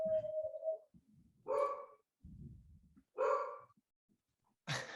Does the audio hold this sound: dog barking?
yes